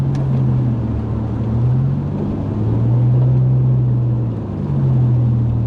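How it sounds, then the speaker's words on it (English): Loud exhaust drone from a 1999 Pontiac Grand Prix GTP while driving, a steady low rumble that swells and eases slightly as the engine load changes, heard from inside the car with no talking. "The car is a little loud."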